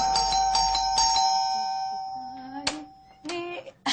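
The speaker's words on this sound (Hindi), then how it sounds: "इस तरह हमारे दरवाजे की घंटी 2 ही लोग बजाते हैं ना" A house doorbell rings with bright ding-dong tones at the start and then sounds again in short bursts, clear and fairly loud at the door of a home, with brief human voice sounds between rings.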